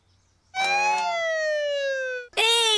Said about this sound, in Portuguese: esta sirene é muito, muito alta. É para dizer a todos os carros para encostarem